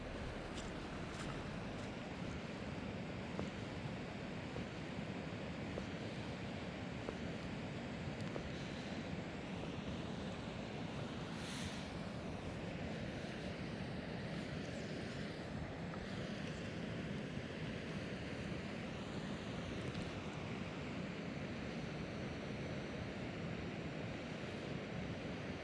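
Water laps and churns along a salmon river under steady gusting wind, a continuous broadband wash that stays even and moderately loud for the whole stretch with no voices.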